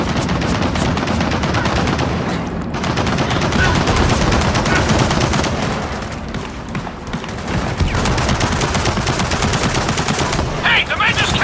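Sustained machine gun fire from the Gears of War 4 video game, played on ultra settings, rattles loudly and almost without pause through a chaotic firefight, with brief dips in intensity.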